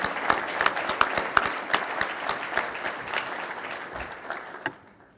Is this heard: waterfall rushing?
no